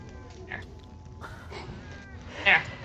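A cat meows within a background music soundtrack playing behind a live tabletop game stream: faint, scattered mews, then one louder, higher cry near the end over a low steady bed.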